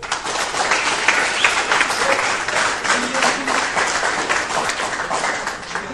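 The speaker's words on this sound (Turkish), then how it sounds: "Bir alkışlayalım İl Müdürümüzü." A crowd claps steadily throughout at a schools' medal ceremony in Edirne, dense and continuous applause with faint voices underneath.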